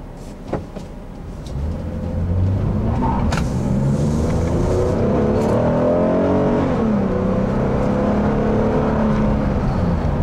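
A 2015 Toyota Sienna SE minivan's engine hums and rises in pitch as it accelerates, then holds a steady drone of road travel heard from inside the cabin.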